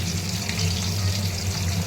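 Bhetki fish frying in mustard oil gives a steady, close crackling sizzle with a low hum underneath, even in level throughout.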